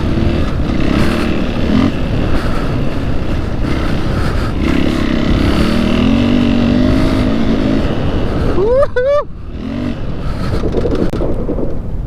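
A Husqvarna 501 FE dirt bike on a motocross track, its engine droning loud and close throughout, with a sharp rising rev burst near the end followed by a throttle drop.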